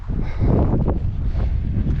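Gusty wind buffeting a microphone outdoors, a continuous low rumble with rushing bursts over two seconds and no voices.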